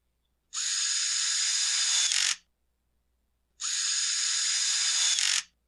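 A ratchet tool rapidly clicks while screwing the starter back onto a Husqvarna 450 chainsaw, in two even bursts of about two seconds each separated by a short silence, close and crisp.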